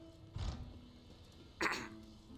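A man clears his throat twice, two short rough rasps a little over a second apart, close to the microphone in an otherwise quiet room.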